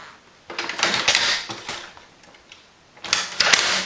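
A Tippmann Boss hand-operated leather stitcher sewing a leather holster, two bursts of rapid mechanical clacking and ratcheting separated by a quieter pause, close and fairly loud, with no talk.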